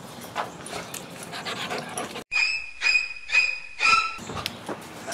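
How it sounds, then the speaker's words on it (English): A puppy named Raggedy Ann pants and snuffles close by, with short breathy bursts, a sudden cut, and then a run of brief whimpering yips over a high whistling tone. "She's our puppy of the week this week."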